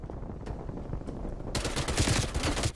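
Rapid video-game gunfire in Black Ops Cold War multiplayer, a burst of dense automatic shots erupting loudly halfway through after quieter scattered pops, with no talking.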